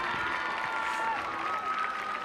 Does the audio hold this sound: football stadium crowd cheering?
yes